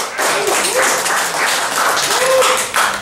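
Audience applause at a guitar clinic with Brent Hinds of Mastodon: steady, dense clapping from a room full of people, sustained for about three seconds with a few voices mixed in.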